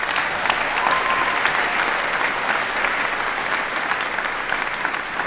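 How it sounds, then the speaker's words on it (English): Sustained audience applause at a Morehouse School of Medicine spring commencement ceremony, steady and dense clapping from a large crowd filling the whole stretch without a break. "Let's give them a round of applause."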